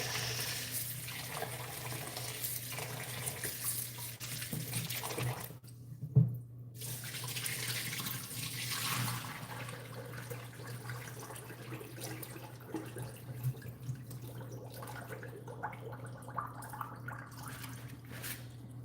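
Food for fried rice is washed under a running kitchen tap, water splashing and trickling steadily into the sink over a constant low hum, with a few louder sloshes.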